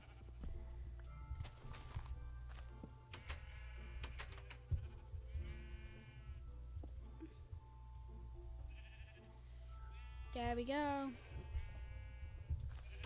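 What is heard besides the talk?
sheep bleating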